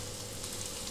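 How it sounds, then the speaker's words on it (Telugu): Sliced okra frying uncovered in an open pan, giving a soft, steady sizzle throughout a short moment with no voices. "ఇక్కడ మూత లేకుండా ఒక 2-3 నిమిషాల పాటు వేయించుకుంటున్నాను."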